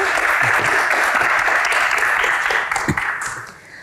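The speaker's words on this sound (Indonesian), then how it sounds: "Tepuk tangan sekali lagi." An audience at an Indonesian awards Q&A stage event gives loud, dense applause that holds steady for several seconds, then thins out and fades near the end, with a faint voice underneath.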